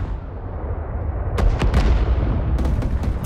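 Artillery fire support strike in Rising Storm 2: a low rumbling barrage builds, with several sharp distant blasts cracking through around the middle and end, no talk.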